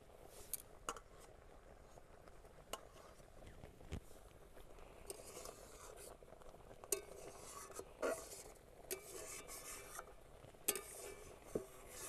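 Homemade tomato sauce, cooked down thick, stirred in a pan with a utensil: faint scraping strokes and occasional light clicks against the pan, steady and quiet, with no talk.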